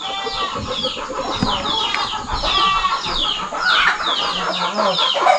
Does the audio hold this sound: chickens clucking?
yes